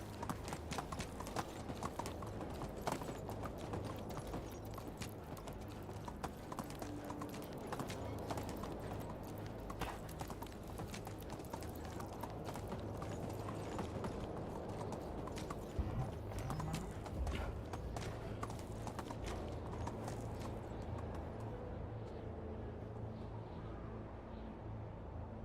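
Horse hooves clip-clop steadily and continuously while riding in the video game Medieval Dynasty, a fast, even galloping rhythm at moderate level with an occasional faint neigh and no talk over it.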